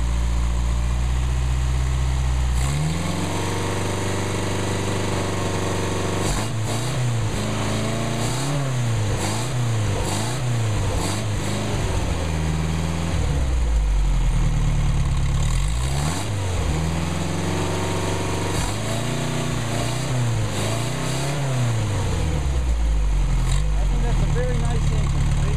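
A Mercedes 190SL engine on a test run idles with a low rumble, then revs up and down in repeated swells, loud and close throughout, with occasional voices faintly under it.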